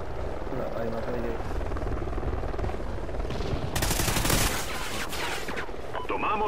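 A scout helicopter in the Call of Duty Ghosts shooter keeps up a steady rotor drone, with bursts of gunfire in the middle and game voice callouts over it.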